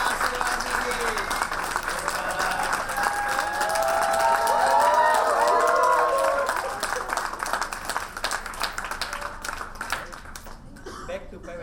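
Wedding guests at a Hindu saptapadi ceremony applaud, a crowd's steady clapping swelling with cheers and voices mixed in, then fading toward the end.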